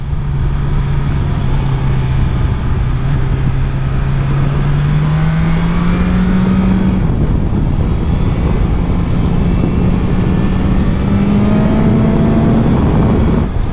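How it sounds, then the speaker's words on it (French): A 2021 BMW S1000XR motorcycle engine screams at around 8000 rpm, its tone holding and then slowly rising under heavy, constant wind rush while riding. "C'est vrai qu'elle est à 8000 tours, elle s'énerve vraiment."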